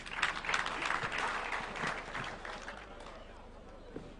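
An audience at a Youth International Day gathering in Kakamega, Kenya applauds President William Ruto, with loud, dense clapping that swells early, then gradually thins and fades while voices murmur through it.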